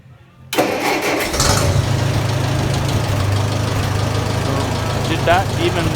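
A Massey Ferguson 65 tractor engine cranks and catches abruptly, then runs with a rough, uneven mid-pitched chugging close by, with a voice talking over it.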